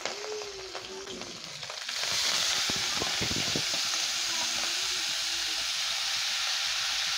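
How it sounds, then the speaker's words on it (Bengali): Greens dropped into a pan of lightly frying fish set off a sudden loud sizzle that begins partway through and then holds steady, replacing quieter clinks and scraping. "মাছ ভাজার ভিতরেই আমি এই শাকটা দিয়ে দেব"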